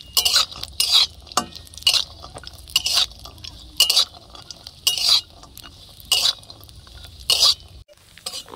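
Cashews and raisins frying in a pan, with regular scraping strokes of a spatula about once a second over a soft background sizzle, close and clear, no talk.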